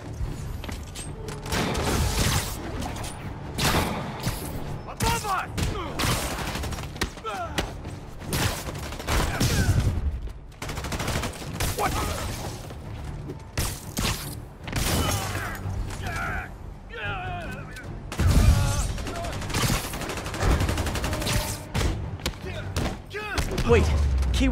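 Bursts of video game gunfire and thuds repeat throughout, mixed with voices talking over the action.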